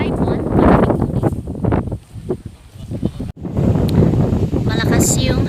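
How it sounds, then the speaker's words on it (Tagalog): Strong gusts at a reservoir dam after a typhoon buffet the microphone in loud, uneven bursts, with a person talking over the blustery roar. "Malakas yung hangin."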